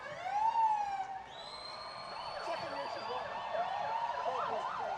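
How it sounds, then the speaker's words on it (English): A Vancouver police vehicle siren wails close by during a pride parade, sweeping up and then switching to a faster rising-and-falling yelp over crowd noise. "I recognize that siren."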